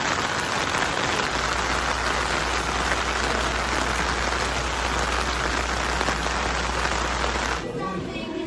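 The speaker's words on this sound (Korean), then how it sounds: "비가 갑자기 엄청 많이 오고 있어서 얼른 보고 돌아가야 할 것 같아요" Heavy rain pours steadily and loudly on a rainy day at a museum outing, a dense continuous wash of drops that cuts off abruptly near the end.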